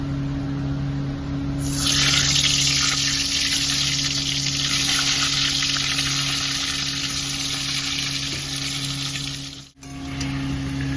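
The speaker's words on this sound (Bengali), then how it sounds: "এখানে কড়াইয়ে সাদা তেল দিয়ে দিয়েছি, তেলটা গরম হয়ে গেছে, আলুগুলো ভেজে নেবো আমি।" Potatoes drop into hot white oil in a wok and burst into a loud, close hiss that stays steady for several seconds, then briefly cuts out near the end before resuming.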